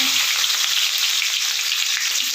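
Onions frying in a kerahi wok make a loud, dense and continuous sizzle that stays steady throughout.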